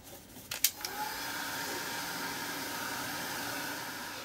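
A heat tool blows steadily to dry a freshly worked art journal page, a continuous close whooshing hiss after a few brief clicks at the start, with no talking.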